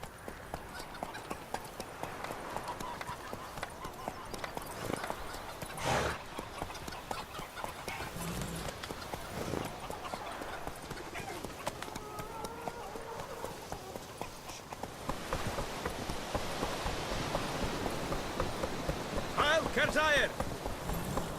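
Horse hooves galloping across the ground in The Witcher 3 video game, a steady fast clip-clop rhythm running throughout under game music and ambient noise, with voices speaking briefly over it.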